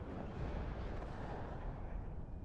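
Mortar and artillery fire in the WARNO strategy game rumbles as a dense, continuous low booming wash, fairly quiet and unbroken across the clip.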